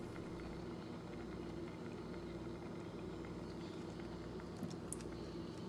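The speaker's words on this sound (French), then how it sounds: "Quand les fraises ont commencé à extraire leur eau et à bouillir" Strawberries cooking down with sugar in a pan, boiling in their own juice with a steady, dense bubbling and soft patter that holds evenly throughout, with no voices.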